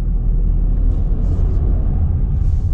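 A 2020 Mercedes-Benz GLA200d with a 2-litre diesel and 8-speed DCT pulls away, its engine giving a steady, loud low rumble heard from inside the cabin, with no talk over it.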